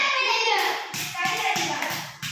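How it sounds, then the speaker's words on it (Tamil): Young children in a classroom clapping their hands, a series of soft quick claps in loose rhythm while voices chatter and call out over them. "கை தட்டு."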